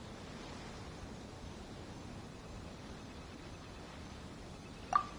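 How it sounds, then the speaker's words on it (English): Ocean waves at Liyue Harbor in Genshin Impact, a faint, steady wash of surf noise with no distinct breaks, ending with a short soft tick. "You mean the sound of the ocean?"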